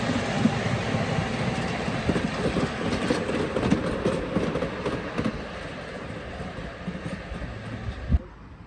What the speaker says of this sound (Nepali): सानो रेल देखाउँदैछौँ